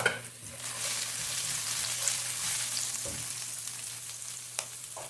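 Minced garlic sizzles steadily in hot oil in a pan while cooking a stir-fry of eggplant and okra, a close continuous frying hiss with a couple of faint utensil clicks and no talking.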